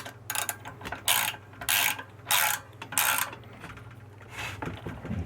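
Nuts being tightened with a ratcheting wrench during assembly of a Harbor Freight 8-inch 5-speed bench drill press, with several loud bursts of rapid ratchet clicks separated by short pauses, close by and with no talking.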